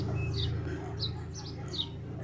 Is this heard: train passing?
no